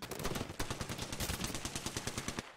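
Automatic weapon fire in the shooter Apex Legends during a Halloween match: rapid, evenly spaced bursts rattle on for the whole stretch at moderate volume, with no talk.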